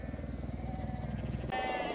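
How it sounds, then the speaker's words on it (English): A flock of grazing sheep near a lakeside campsite bleats repeatedly in a wavering, pulsing call that stays close and loud, with a sharper higher bleat near the end and no talk. "We have been greeted with these sheep everywhere."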